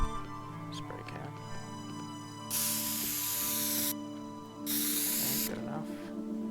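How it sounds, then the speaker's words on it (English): A spray can hissing in the video game Teardown, two long loud bursts of spray separated by a short pause, set over a steady hum of game sound and small clicks. "Spray can."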